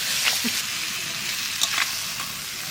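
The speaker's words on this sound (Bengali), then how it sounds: "মশলার সাথে মটর মটরশুঁটিটা একটু কষাই নিলাম" Green peas sautéing with spices in a hot pan give a steady close sizzle and hiss, with brief scraping stirs breaking through.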